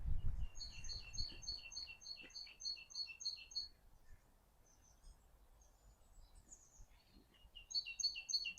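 Birds chirp outdoors near bare trees by a local school, quick repeated high twittering phrases in bursts, fairly faint and distant over a quiet background.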